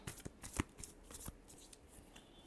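Tarot cards shuffled in quick bursts of riffling flutters and soft slaps, close and quiet, with no voice over them.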